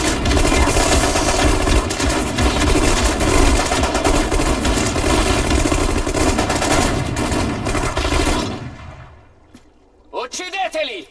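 Sustained machine-gun and rifle fire in the World War II strategy game Sudden Strike 4, a loud continuous clatter that fades out near the end before a unit voice speaks.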